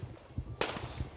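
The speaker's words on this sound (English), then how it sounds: "Gunfire rang out" A single sharp gunshot cracks in the streets of Lagos, Nigeria, during unrest, loud and close over a low rumbling background.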